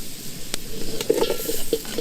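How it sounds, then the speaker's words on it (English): Potatoes sizzling and crackling in hot oil in a pan while cooking outdoors, with light stirring and a few sharp pops, close up and fairly loud. "Give it a sizzle."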